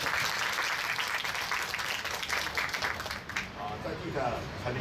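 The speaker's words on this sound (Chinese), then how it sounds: "我们再一次最热烈的掌声，感谢我们的长辈" Sustained applause from an audience honoring elders at a senior fitness club opening in Kaohsiung, dense clapping that thins toward the end while a speaker talks over it.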